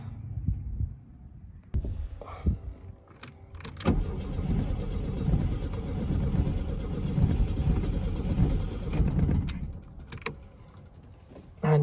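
A 1974 VW Beetle engine with an electric choke cranks briefly, then catches and runs with a rough, throbbing low rumble close by for several seconds before cutting back to quieter cranking.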